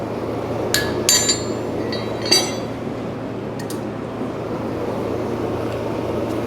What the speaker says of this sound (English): using this small diamond square shaped punch, I'm going to come to the top of his nose and put a small hole.